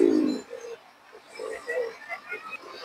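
Pigeons coo softly in short, low, throaty bursts, spaced unevenly over a few seconds, close by.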